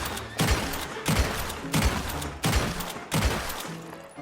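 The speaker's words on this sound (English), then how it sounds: "Now here is the shot rhythm when the trick is activated." Gunfire from dual Volcanic Pistols in the Western video game Red Dead Online: five sharp, loud shots in a steady rhythm, each with a short ringing decay, spaced roughly two-thirds of a second apart.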